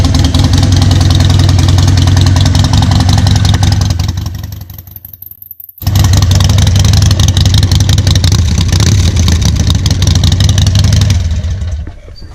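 A stock fuel-injected modern motorcycle fitted with an aftermarket exhaust idles loudly and steadily up close, cuts out briefly for about a second, then catches again and settles back into a loud, even idle.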